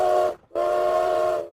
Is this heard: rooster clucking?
no